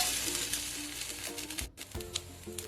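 Flattened rice pulao sizzles softly in a pan over a low flame while being stirred, with scraping and clinking of the spoon and intermittent faint crackles, close and fairly quiet.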